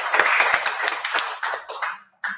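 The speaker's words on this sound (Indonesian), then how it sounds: "Tepuk tangan yang meriah sudah semua." A crowd claps at a savings-and-loan cooperative's annual members meeting, a dense, near round of applause that thins into a few scattered claps before a short pause and one last burst.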